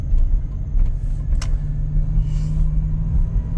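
A 2002 Chevy Suburban rolls along side streets with a steady, close low engine drone and road rumble throughout, no one speaking.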